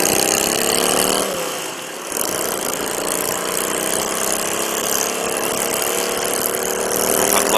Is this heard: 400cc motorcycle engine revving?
yes